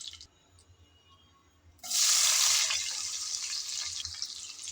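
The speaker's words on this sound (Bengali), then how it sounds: "আমি তো চিংড়ি ভাজার তেলে পেঁয়াজ কুচি দিয়ে দিলাম" Chopped onion tipped into hot oil left from frying shrimp, bursting into a loud, sudden sizzle that then settles into a steady, close crackling fry, with no talking over it.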